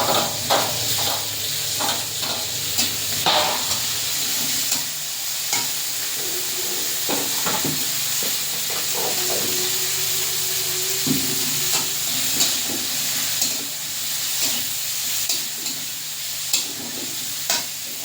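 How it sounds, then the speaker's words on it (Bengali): Onion and prawns fry with panch phoron in hot oil with a constant sizzle, while a spoon scrapes and stirs the pan in frequent irregular knocks. "আর চিংড়ি একসঙ্গে ভালো করে ভাজা ভাজা করে নেব।"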